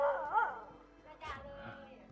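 Dogs at a rural house in northeast Thailand bark and whimper in a short burst near the start, then quieter yips follow under background chatter and a brief hiss of noise.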